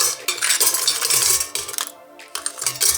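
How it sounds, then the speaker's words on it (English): Ice cubes clatter and rattle as they drop into a Ninja Thirsti travel mug, a loud burst of hard clinking with a short pause midway, then more rattling. "Okay, in goes the ice."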